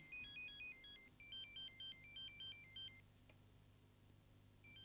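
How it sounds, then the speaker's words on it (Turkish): A mobile phone rings with a repeating electronic melody in short phrases, faint and steady over a low background hum, then stops partway through, with no talking. "İşte bak, telefonun çalıyor."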